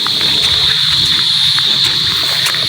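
Rainwater runs and splashes steadily through a roadside canal during a downpour, a continuous close wash of water with a strong high hiss and no voices.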